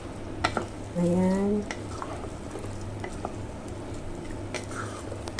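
Chicken and glutinous rice stirred in a pot for Filipino arroz caldo, a soft wet scraping and gentle sizzle running steadily under low background noise, with a brief spoken word near the start.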